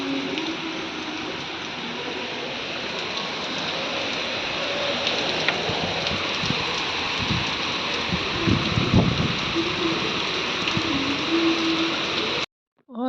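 Steady rain falls throughout, a dense broadband hiss with scattered drips and household clatter partway through, ending abruptly near the close.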